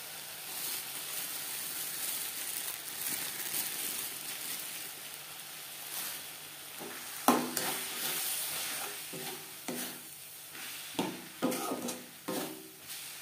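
A spoon scrapes and clatters in a pan as fried spice masala is mixed with bread crumbs over low to medium gas flame, soft sizzling underneath with irregular knocks growing sharper toward the end.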